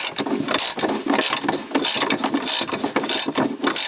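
A ratchet wrench loosens 14mm exhaust pipe bolts on a 1992–2002 Toyota Camry, giving rapid bursts of metallic clicking in repeated strokes, loud and close.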